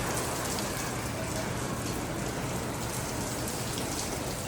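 Heavy rain pours down steadily, a dense, constant hiss of drops drumming on surfaces with no pauses.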